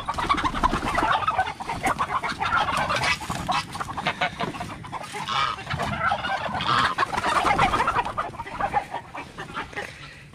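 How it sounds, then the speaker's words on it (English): A free-range flock of chickens, geese and turkeys clucking, squawking and honking after being let out, a dense, busy chorus of overlapping calls close by, continuing throughout. "we're going to let out the chickens and the geese here"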